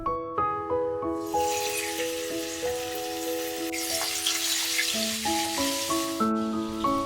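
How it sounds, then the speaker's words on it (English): Beef for Japanese niku udon sizzles and hisses in an oiled frying pan as it is stir-fried, under a steady melodic music track, the frying loud and continuous. "keep stir-frying the beef until the colors of beef changed"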